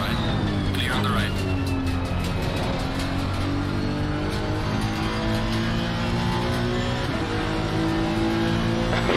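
A GT race car in Assetto Corsa Competizione roars at close range, its engine revving up and down through gear changes with a brief tire squeal, a voice talking over the engine.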